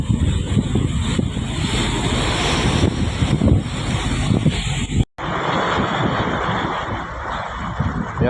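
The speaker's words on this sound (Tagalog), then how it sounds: "Iba yung hangin." Strong wind roars and buffets across the open sea on a fishing boat, loud and continuous with rushing gusts and a sudden brief dropout before the blustering resumes.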